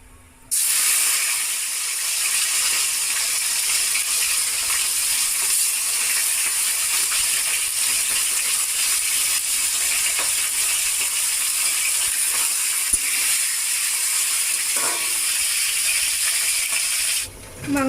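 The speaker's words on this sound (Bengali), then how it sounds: "আজকে আমি মাংসগুলোকে ভেজে নিয়ে রান্নাটা করব।" Salted, turmeric-rubbed chicken pieces frying in hot oil in a kadai for chicken curry, heard as a steady, loud, dense sizzle and hiss that holds unbroken for the whole stretch, with a few faint clinks underneath.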